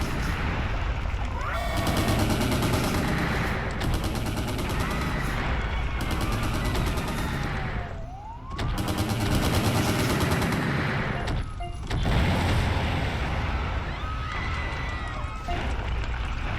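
Heavy gunfire and explosions in the monster video game Kaiju-A-Go-Go, a dense, loud, continuous barrage of bursts and booms with rumbling effects that briefly drops out twice.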